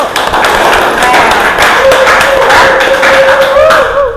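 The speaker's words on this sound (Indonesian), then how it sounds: "tepuk tangan dulu buat kelompok 1" An Indonesian classroom audience claps for group 1 after a student presentation in a civics teaching exam, with loud, close clapping running throughout while a voice talks over it.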